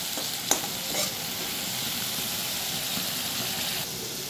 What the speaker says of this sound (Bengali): যতক্ষণ না পেঁয়াজ, আদা, রসুনের যে কাঁচা গন্ধটা আর টমেটোর গন্ধটা কেটে যায়, একটা বেশ সুন্দর ভাজা ভাজা গন্ধ আসে, ততক্ষণ ভালোভাবে মশলাটাকে কষিয়ে নিতে হবে